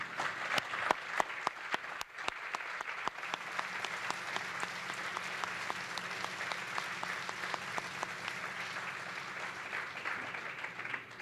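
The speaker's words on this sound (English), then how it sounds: "if I could just have all the Board of Directors and former Board of Directors just stand up for an applause" Applause from a groundbreaking-ceremony crowd honoring a board of directors, starting with distinct nearby claps that thicken into steady, moderately faint clapping lasting about eleven seconds.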